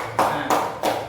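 A classroom of young students claps in three distinct, loud group bursts in quick succession, each a sharp rhythmic clap close by, with no talking over it.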